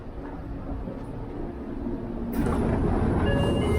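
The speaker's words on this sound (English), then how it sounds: "Now I've got Akitsu station. Let's get off the train of Akitsu station." A Seibu Ikebukuro Line train at Akitsu station in Tokyo, with a steady low rumble and hiss that stays fairly loud throughout and swells slightly near the end, with no talking over it.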